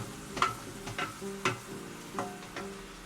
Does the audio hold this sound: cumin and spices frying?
yes